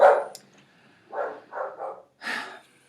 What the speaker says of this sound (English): There's a dog in my front yard. My dog's barking at him.